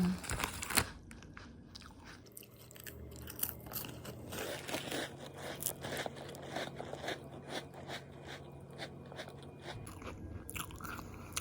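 Close, crisp crunching and chewing of a crumbly, oily cracker with lemon cream, steady bites and mastication repeating for several seconds with no talking.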